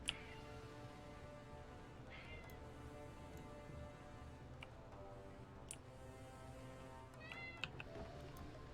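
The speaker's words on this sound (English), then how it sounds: "I don't know if you guys can hear it, but that's my cat." A pet cat meows several times, fairly faint and somewhat distant, its cries spread over a steady low background hum, with no speech over them.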